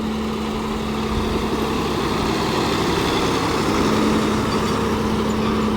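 A Swaraj 969 FE 4WD CRDi tractor engine drones steadily at close range with a low, throbbing hum and a constant tonal whine, its loudness holding nearly even.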